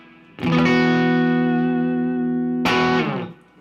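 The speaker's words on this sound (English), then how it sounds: "We'll throw on the Cloud9 reverb just for a little." An electric guitar through a Cloud9 reverb pedal on a pedalboard rings out two sustained distorted chords, the first held long with a washy tail before the second is struck and fades.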